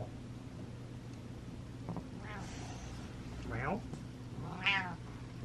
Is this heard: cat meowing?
yes